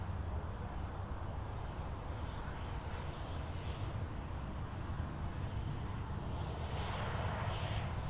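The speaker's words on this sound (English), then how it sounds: "Star 507, run 16 right, clear for takeoff" A Jetstar airliner takes off from runway 16 right at Sydney Airport, a steady, broad jet-engine roar heard from a distance that holds constant throughout.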